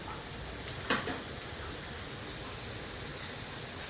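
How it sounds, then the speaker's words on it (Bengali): Salted papaya pieces frying in a pan give a soft, even hiss of sizzling throughout, with one brief clatter of a utensil early on and no voices. "পেঁপেটা এবার একটু ভাজা হবে তারপরে মশলা দেবো"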